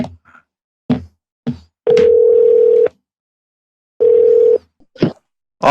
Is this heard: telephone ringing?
yes